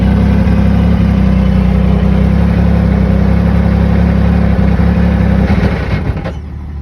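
A Yamaha YXZ1000R side-by-side with a GYTR turbo kit, sitting in neutral with no load, drones loudly and steadily under throttle before its revs sag and fade near the end. Nobody speaks over the engine.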